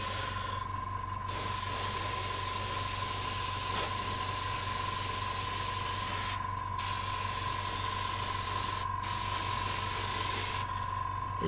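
An airbrush sprays paint onto miniature models in a steady, close hiss broken by a few brief pauses, with a constant tone from a compressor or other equipment underneath.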